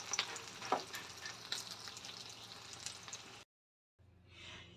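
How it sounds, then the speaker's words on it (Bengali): Halved boiled eggs frying in oil in a pan over a medium gas flame, making a soft, close, crackling sizzle with small pops. It cuts out briefly, then returns more faintly. "গ্যাসটা আমি মিডিয়াম করে দেব। আমি এইভাবে সবগুলো ফ্রাই করে নেব।"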